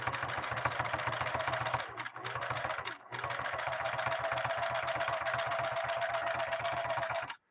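A Singer 6212C household sewing machine stitching steadily, a fast continuous mechanical chatter with its motor hum, briefly pausing twice early on, then running on without voices.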